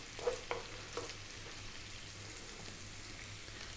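Onion and garlic dropped into a hot frying pan for a Greek beef and tomato stew, with a few soft plops followed by a quiet, steady sizzle and no talk.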